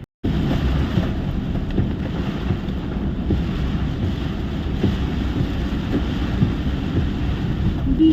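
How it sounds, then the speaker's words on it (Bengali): Heavy rain from Cyclone Remal in Kolkata, heard from inside a car, a loud, steady roar of downpour drumming on the vehicle that continues unbroken and without pause. "বিশাল জোরে বৃষ্টি পড়ছে"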